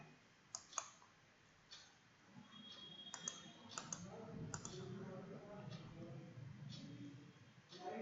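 A computer mouse clicks quietly during a Facebook Ads Manager walkthrough, with several sharp, scattered taps under ongoing narration.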